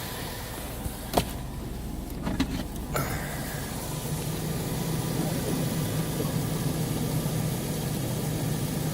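A 2003 Chevrolet Tahoe with the 5.3L V8 idles steadily at a low, even rumble, a few brief clicks and knocks near the start before the smooth idle continues alone.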